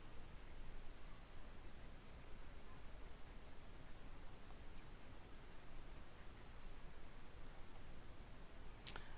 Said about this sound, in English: I'm just going to erase some of this up here